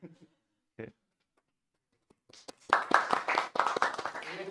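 Brief scattered clapping from a small group at a Flutter and Google AI tools meetup talk, starting after a near-silent stretch and running under excited chatter and voices.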